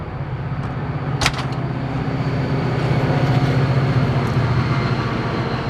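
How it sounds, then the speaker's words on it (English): A train rumbles past nearby, a loud steady low roar with a brief sharp clank early on, continuing without letup. "sorry, a train's going by."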